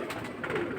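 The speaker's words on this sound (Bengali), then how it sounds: "এগুলো হচ্ছে ফ্লাইয়ের কবুতর" High-flying pigeons, males kept together, give a low cooing murmur close by, mixed with brief fluttering bursts and shuffling noise in a short, busy stretch.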